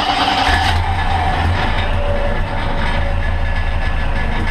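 A monster trike engine idles and runs loudly up close after a carburetor rebuild, a dense, steady low rumble with a rough mechanical rattle throughout.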